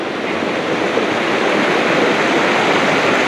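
River water rushing beneath the Karappara hanging bridge in Nelliyampathy, a steady broadband roar that stays loud and close throughout, with no voices over it.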